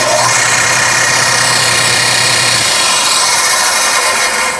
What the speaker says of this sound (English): We have a combination belt and disc sander over by the wall by the air line attachments.